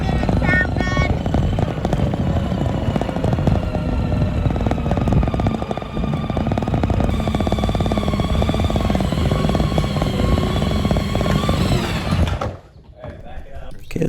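A RyderToys 24V all-wheel-drive two-seat kids buggy drives over grass, asphalt and hills, its electric motors giving a steady, loud whine with rumbling bumps for about twelve seconds before cutting out abruptly.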